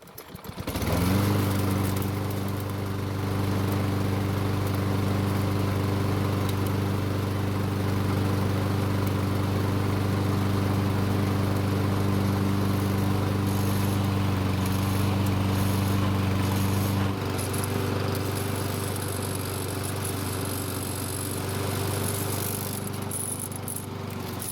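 A Lawn Boy lawn mower engine starts and runs steadily, a loud close droning hum that holds a constant pitch for over twenty seconds, shifting slightly in tone partway through, with no voices.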